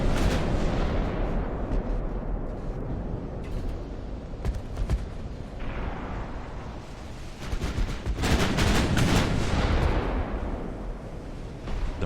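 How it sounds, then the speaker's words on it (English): Warship secondary guns firing during a naval battle in Ultimate Admiral: Dreadnoughts, a dense run of overlapping booms and gunfire bursts that swells heavier toward the middle, with no talk over it. "we're going to get our secondaries firing on this one here."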